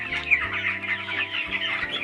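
Poultry farm chickens clucking steadily and close by, with overlapping cackles and low calls and a busy flock murmur, no talk.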